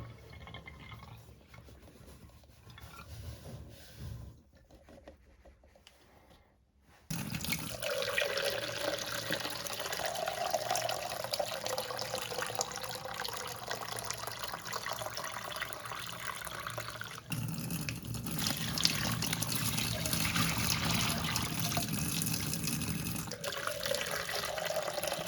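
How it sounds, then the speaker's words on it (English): Boiling water poured into a Deox-C rust remover mixture for cleaning rusty car parts, a steady rushing liquid pour starting after a quiet stretch and running continuously to the end, fairly close and loud. "pour this in and pour some boiling water in as well"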